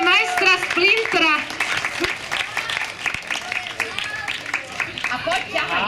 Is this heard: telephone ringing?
no